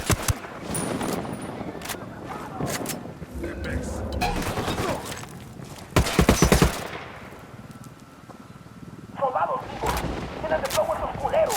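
Automatic gunfire in Ghost Recon: Wildlands, loud rattling machine-gun bursts and scattered shots coming in waves, with a sharp close volley midway, under occasional talking.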